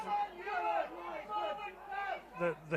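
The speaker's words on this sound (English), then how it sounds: "crowd are yelling for a forward pass" A rugby league crowd at an Oldham versus Hull Kingston Rovers match yells and roars in rising waves, loud and a little distant, with a commentator's voice sometimes mixed in.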